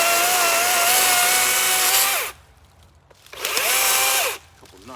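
An electric chainsaw cuts through wood in two loud, close bursts, its motor whining with a pitch that dips under load, then drops away between cuts before cutting again.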